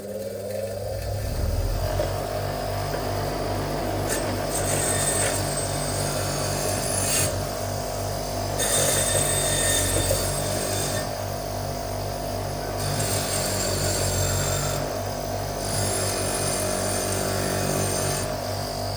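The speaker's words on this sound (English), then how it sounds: "this back plate, it's got some heavier rust on the inside there, so we'll take that to the wire wheel" A bench wire wheel whirs continuously, scrubbing heavy rust off the inside of a water pump back plate, loud and close, with the pitch and grinding texture shifting as the plate is pressed against it.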